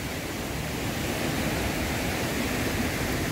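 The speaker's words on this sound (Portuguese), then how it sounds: "Dá pra tomar um banho nessa cachoeira." Rushing waterfall in a preserved orchid habitat among rocks, a dense, broadband roar of falling water that stays loud and constant throughout with no voices over it.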